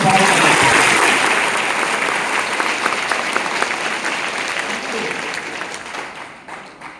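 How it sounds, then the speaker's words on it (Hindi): A crowd at a 77th Republic Day speech event breaks into loud, sustained applause that starts at full strength and gradually fades over several seconds. "तो एक बात सबसे पहले भैया के लिए जोरदार ताली दो"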